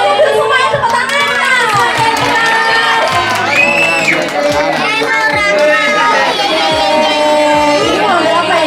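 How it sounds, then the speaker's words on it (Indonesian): Crowd of children and adults clapping and cheering at a Balinese otonan ceremony and birthday party, with steady applause and excited voices filling the room throughout. "tepuk tangannya dulu semuanya, tepuk tangan"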